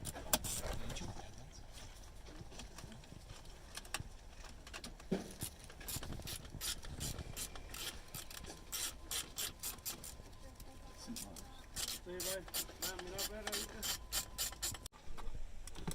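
Close, repetitive ratcheting clicks come from a ratchet on a long extension working a seat bolt loose in a BMW E39 M5, ticking in quick runs over a steady background rub of mechanical noise.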